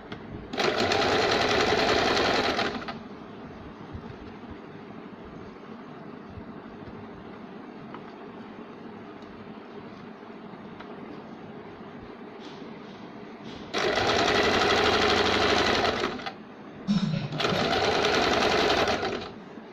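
A sewing machine stitching a simple baby bib, running in loud, close, steady buzzing bursts at the start and again near the end, with a quiet pause between them.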